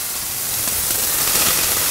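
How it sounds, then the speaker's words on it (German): Beef fillet searing with olive oil in a very hot frying pan gives a steady, close sizzling hiss that swells slightly as it goes on, with no talk over it. "Dann hier hinten Bratpfanne, um das Fleisch anbraten."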